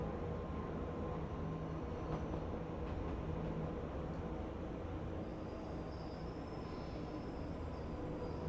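Rolling wheels and a low engine rumble come from a train in the Train Life railway simulator game, steady and fairly quiet, with faint clicks and a thin high whine late on and no speech.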